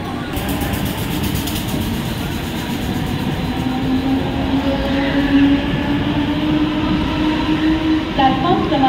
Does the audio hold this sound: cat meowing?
no